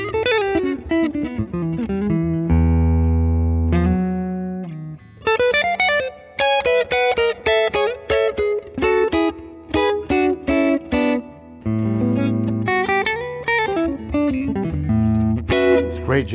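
Tom Anderson 2004 Top T electric guitar played on the neck pickup for a jazz tone: a loud, close run of chords and melodic single notes with some effects, including choppy rhythmic stabs partway through.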